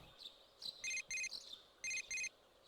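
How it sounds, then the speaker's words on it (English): A cell phone rings in the Persona video game: short electronic trill bursts in pairs, bright and clear, with faint chirpy tones between them. "Your cell phone is ringing."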